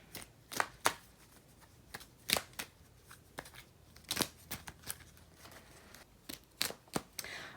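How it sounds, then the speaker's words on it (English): Tarot cards are shuffled and pulled from the deck in a quiet room, making a series of crisp riffles and soft slaps at an irregular pace, with no talking. "I'm going to pull some more cards."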